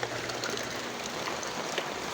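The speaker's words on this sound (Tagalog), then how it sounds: "Ganyan lang po kalakas yung ulan." Light rain falling steadily, a soft continuous patter with occasional louder drops, with no voices heard.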